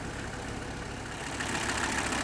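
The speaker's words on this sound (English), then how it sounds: "You can see in here now that the engine's running a lot smoother" A Mercedes-Benz W126 300SD diesel engine idles steadily after ten years of sitting, a broad, even low rumble heard up close in the engine bay, growing slightly louder toward the end.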